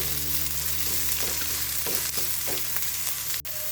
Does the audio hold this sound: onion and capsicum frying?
yes